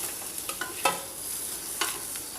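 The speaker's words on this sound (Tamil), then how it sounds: "அதுலேயே இந்த பூண்டு, ஆனியன், கேரட் இதெல்லாம் போட்டு நல்லா வதக்கிக்கலாங்க" Garlic, onion and carrot sauté in melted butter for tomato soup, giving a soft, steady sizzle with a few light scrapes and clicks of stirring, close and without voices.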